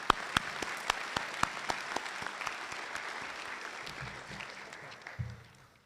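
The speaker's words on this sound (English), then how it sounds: "Let's give them a round of applause." Audience applause at a high school Veterans Day ceremony, a crowd clapping steadily for several seconds with a few sharp individual claps, then tapering off toward the end.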